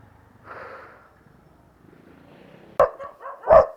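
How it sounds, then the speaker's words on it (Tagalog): A dog barks at a parked delivery rider's spot, two or three sharp, loud, close barks near the end following a quieter stretch with faint background noise and a brief soft murmur. "Langya, dito pa ako nagpark sa may aso."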